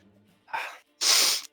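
A single close sneeze, with a short sharp inhaled gasp followed by a loud, breathy burst lasting about half a second, alone in an otherwise quiet room.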